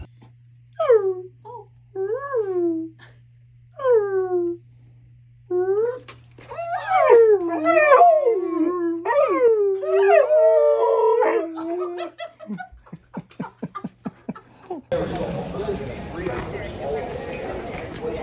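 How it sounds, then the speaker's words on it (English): A puppy yips and whimpers in short bursts, then breaks into a rising, wavering howl, close by, before a burst of rushing noise cuts in. "Puppy"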